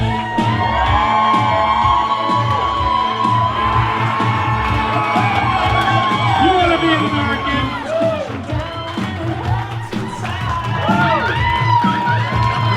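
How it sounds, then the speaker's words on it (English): A lively crowd at a wrestling-themed wedding party cheers, whoops and shouts for the groom, Paul Brown, loud and sustained throughout, with an announcer's voice and other talk mixed in. "let's have a big round of applause for our groom this evening, Mr. Paul Brown"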